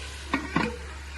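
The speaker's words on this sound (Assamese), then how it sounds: "এইফালে কোমোৰা ভাজি বনাইছোঁ," Pumpkin bhaji cooks in a pan on a home kitchen stove, with a soft steady sizzle underneath and two short scraping stirs of a spatula close by.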